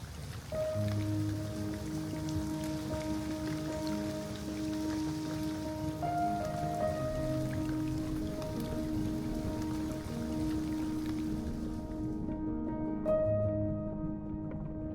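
Continuous patter of rain over flooded fields in Thailand under a steady bed of tonal music, both running evenly before the rain sound drops away near the end.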